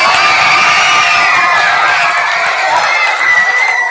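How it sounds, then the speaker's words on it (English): Loud cheering and shouting from a crowd celebrating the winners of a school speech competition. The whooping and raised voices blend into a sustained roar that lasts for four seconds. "Can we give all of our winners a round of applause?"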